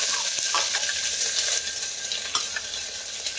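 Onion and garlic fry in hot oil with cumin seeds, a dense close sizzle and crackle with faint stirring scrapes throughout, no voices.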